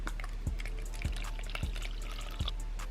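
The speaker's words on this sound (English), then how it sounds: "So let's go ahead and water this one." Water poured into a salmon pink bird eater tarantula enclosure, a soft trickling splash with a few distinct drips landing at irregular intervals, close and fairly quiet with no talking.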